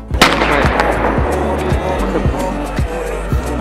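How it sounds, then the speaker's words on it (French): A starting pistol shot at the French national cross-country championships, one sharp crack near the start followed by a loud crowd and rumbling field of runners. "il ne manque plus que le coup de feu du départ"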